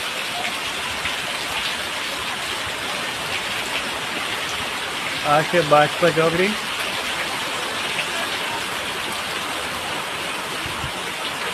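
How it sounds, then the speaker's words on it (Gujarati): Heavy rain pours down steadily at the Bajap crossroads, a dense continuous hiss throughout, with someone briefly speaking over it midway. "વરસાદ ફૂલ પડી રહ્યો છે"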